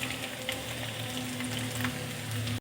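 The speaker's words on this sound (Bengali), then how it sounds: "দেখো বন্ধুরা, এইভাবে করে ভেজে নিতে হবে পোলাওগুলো" Pilau rice for Bengali-style zarda fries in a pan with a steady, even crackling sizzle, close and continuous, with faint stirring taps and no voices.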